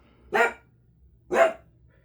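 A dog barks twice, about a second apart, each bark short and fairly close, with quiet in between.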